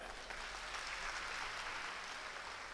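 A large crowd fills a hall at a political party gathering and applauds for themselves, producing a steady, dense wash of clapping that stays even throughout, fairly faint and distant.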